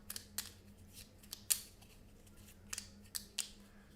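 A deck of board game cards being shuffled, giving several sharp, close snaps and riffles spread unevenly over a few seconds against a quiet background.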